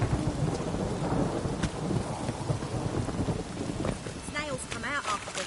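Rain falling with a deep rumble of thunder in The Witcher 3 game world, a dense continuous wash that stays loud throughout, with a few brief voice-like sounds near the end.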